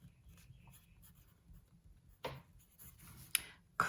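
Grey-lead pencil scratching across a paper worksheet, soft rubbing strokes that end in a few sharper, louder marks, close but faint in a quiet room.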